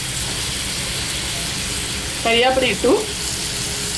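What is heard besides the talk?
brinjal frying in a pan with curry leaves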